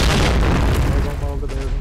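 A loud, heavy bomb blast in the shooter game Point Blank, a deep booming rumble filling the moment up close.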